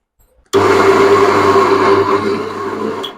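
A kitchen mixer grinder churns soaked lentils into a fine vada batter, starting abruptly after a brief quiet and running as a loud, steady whirring hum for several seconds before stopping.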